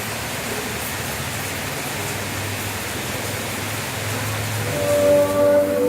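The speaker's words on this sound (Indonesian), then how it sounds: "Hujan makin keras guys" Heavy rain pours in Makassar in a steady, even roar, growing slightly louder toward the end.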